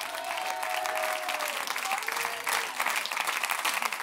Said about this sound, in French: Applaudissez très très fort encore une fois